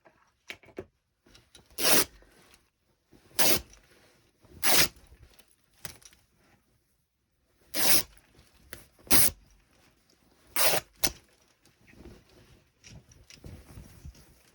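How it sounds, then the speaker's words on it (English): Vintage fabric is torn by hand in several short, close ripping bursts separated by quiet gaps, with some softer rustling between them. "so let's do a bit of a tear about here"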